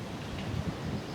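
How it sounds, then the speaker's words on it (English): Typhoon wind and rain outside an apartment building make a steady, dense rushing roar with low buffeting rumble, loud and continuous with no speech. "it's raining, but oh, can you hear that? That's wind."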